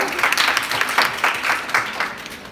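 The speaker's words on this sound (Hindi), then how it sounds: "ताली हो जाए" A group of students in a school session claps, a short burst of brisk, uneven applause that swells and fades in quick waves.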